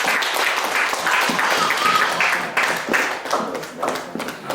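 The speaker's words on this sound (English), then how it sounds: "Let's give a clap for Jesus." A church congregation claps and applauds during a service marking International Women's Day, dense continuous clapping throughout with some voices mixed in.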